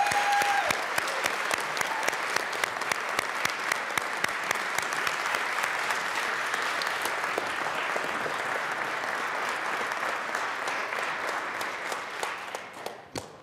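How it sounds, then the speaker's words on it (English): Members of a Colorado state legislative chamber give a steady round of applause for a resigning legislator, dense clapping filling the hall evenly before fading out at the close. "I would love it if we could give you all a round of applause for all you've done"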